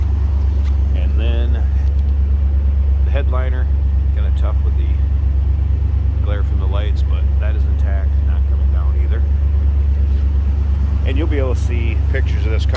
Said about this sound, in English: Nice little rumble coming out of that 5-liter.